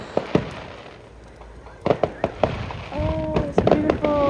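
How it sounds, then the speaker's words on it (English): New Year fireworks in Guam: sharp scattered bangs and crackles at varying distances, followed by a dense stretch of popping with whistling, rising tones near the end. "There's tons and tons of fireworks."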